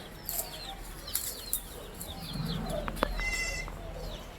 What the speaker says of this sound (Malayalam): ഒരു കൂട്ടത്തെ ആടുകൾ